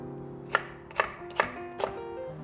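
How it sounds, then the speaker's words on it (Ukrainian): A knife chops bell pepper on a board in four evenly spaced, crisp thuds, close and fairly quiet, with no talk. "Десь половину болгарського перця ми ріжемо на порцію з трьох яєць."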